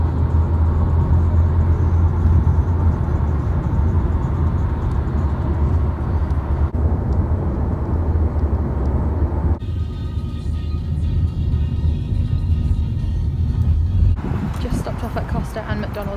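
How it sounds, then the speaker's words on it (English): A car with its engine running gives a steady, loud, close low rumble that drones on without a break, with a slight shift in tone partway through. "my mum is in the car with the engine running"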